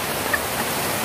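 Heavy rain pours steadily during a thunderstorm, a dense, even broadband hiss that stays loud and constant with no talk.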